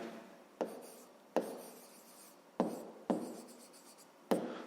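Pen or chalk strokes writing out a math solution for a fifth-grade exercise, heard as five sharp, separate scratching bursts spaced about a second apart, close and fairly quiet, with no talk.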